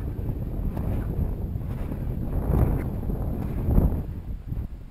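Strong winter wind in Canada at about minus 12 buffets the microphone in a steady low roar, rising into heavier gusts partway through, with no talk.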